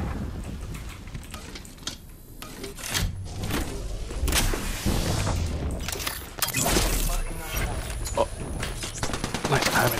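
Rapid bursts of automatic gunfire in a shooter video game, loud and dense, with repeated shots and thuds overlapping throughout.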